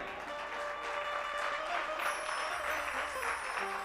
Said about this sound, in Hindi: ताली फिर मरी मराई